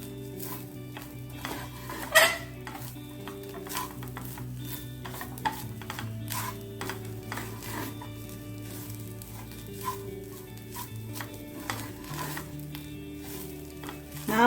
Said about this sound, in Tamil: இப்போ இதை சேர்த்து நல்லா கிண்டி விட்டுடலாம்.